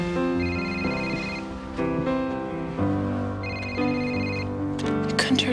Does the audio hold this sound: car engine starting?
no